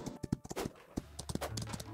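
Horse hooves in the horse riding video game Star Equestrian, quick irregular clip-clop steps, fairly close and moderately loud, with light background game sounds.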